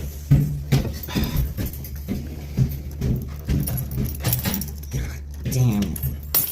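Jangling keys rattle in short bursts as someone struggles to unlock a door during an arrest, mixed with a steady low hum and overlapping talk.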